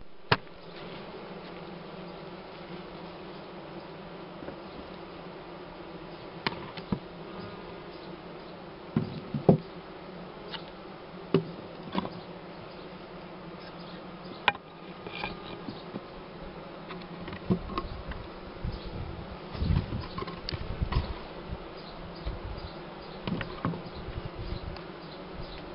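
A swarm of honeybees at a nest built on ceiling boards, steady dense buzzing throughout with scattered louder bumps and rustles from nearby handling.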